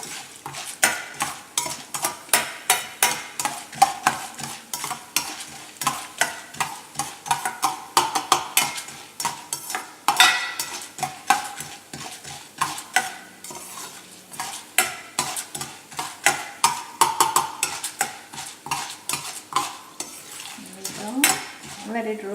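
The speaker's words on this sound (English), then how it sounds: "Let it roast a little bit. It is roasting" Elephant foot yam (suran) roasts with masala in a pan over medium heat, a steady run of sharp spatula scrapes and clinks against the pan over a low sizzle, close and fairly loud, with no talking.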